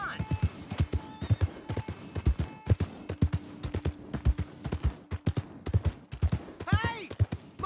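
Horse hooves clip-clop at an uneven walking pace in the video game Red Dead Redemption 2, close and distinct, with a brief whinny near the end and faint voices in the background.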